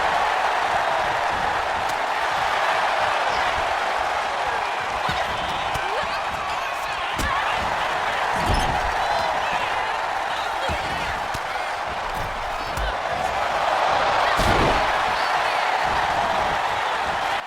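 A wrestling arena crowd in WWE 2K25 roars in a steady, loud wash with occasional thumps and louder swells, while a voice talks over it.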